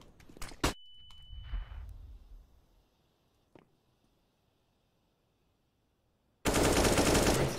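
Counter-Strike: Global Offensive gunfire comes as a few sharp shots and faint scuffles over a quiet background, then a loud, sustained burst of fire fills the final second.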